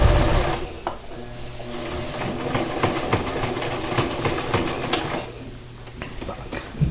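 A sewing machine back-stitches hammock fabric close by, its needle running in a rapid, steady mechanical whir with brief shifts in pace as the stitch is locked, and no talking.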